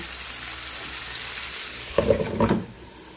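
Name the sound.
string beans (sitaw) frying in a covered pan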